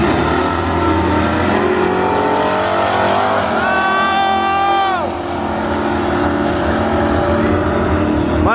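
A Ford Mustang racing down a drag strip, a loud, close engine roar climbing through rising revs with a sharp gear-change drop midway, then continuing to scream under power.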